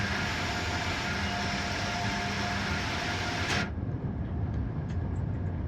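Amtrak Acela Express high-speed train in Train Sim World 4 on the Boston run, a steady broadband running roar and rumble that cuts abruptly to a quieter cab hum partway through, with no talk.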